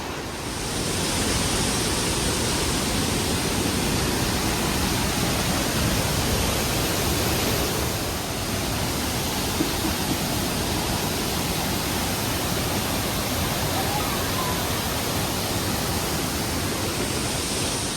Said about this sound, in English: This was the final waterfall we saw in our trail